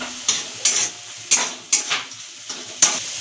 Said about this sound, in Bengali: চিনি দিয়ে এটা নাড়াচাড়া কিছুক্ষণ দেওয়ার পর